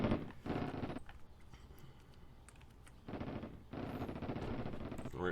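Video game gunfire against Daesh troops: bursts of rapid automatic fire, loud and close, with quieter scattered shots and clicks between the bursts.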